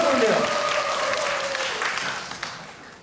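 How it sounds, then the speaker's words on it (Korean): Audience applause at a televised trot singing contest, a steady wash of clapping under a voice speaking over it, fading slightly toward the end. "박수 한번 드리겠습니다."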